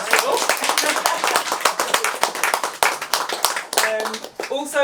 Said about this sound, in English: So round of applause for everyone who's at the festival.